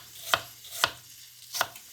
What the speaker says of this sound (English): you want to cut all your apples into thin slices like this